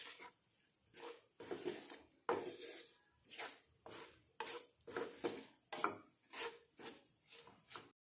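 Garlic cloves stirred into spices and salt in a pot for an Assamese garlic pickle, giving a steady series of close, rhythmic scraping and clattering strokes of a utensil against the vessel, with no talking.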